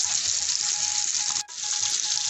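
Three pieces of pomfret and salmon fry in a pan over gas turned below medium, making a loud, dense, continuous sizzle close by with one momentary dip and no talking.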